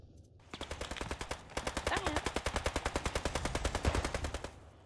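Rapid automatic gunfire from the WWII tactical shooter Post Scriptum, a long, steady burst of evenly spaced loud shots rattling on for several seconds, with a brief pause near the start and no talk over it.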